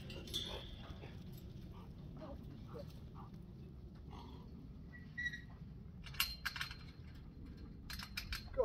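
An excited dog whimpers and yips close by in short high-pitched bursts between quieter stretches, with a few sharp clatters and knocks mixed in and a person speaking briefly.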